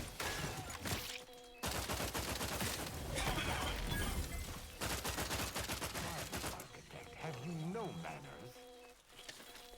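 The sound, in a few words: gunshot from the video game The Outer Worlds 2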